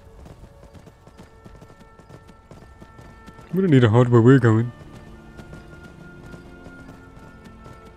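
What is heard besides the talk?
horse hooves walking in Skyrim video game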